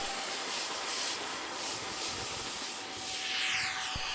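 An X-Fly Su-27 Flanker RC model jet takes off from its wheels on its maiden flight, its steady, loud whining rush filling the air and shifting in pitch as it accelerates and climbs away, with no one talking.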